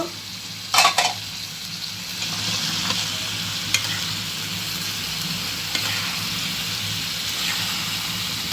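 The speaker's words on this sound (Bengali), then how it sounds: "এটা দিয়ে এখন নাড়াচাড়া দিয়ে নামিয়ে ফেলবো" Chinese chicken curry thickened with cornflour is stirred in a pan, with a couple of sharp utensil knocks early on, then a steady soft sizzle and occasional spoon taps.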